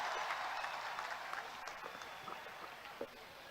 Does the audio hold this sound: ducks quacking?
no